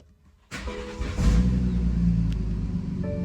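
A cheap, once-abandoned BMW fitted with a giant turbo starts for the first time: silence, then the engine cranks and catches, settling into a loud, steady, rough idle that swells slightly after a second.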